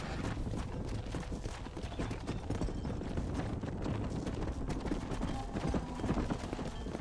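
Horse hooves clip-clop in the Red Dead Redemption video game, a busy run of rapid, overlapping hoofbeats on dirt throughout, with low rumbling underneath and no speech.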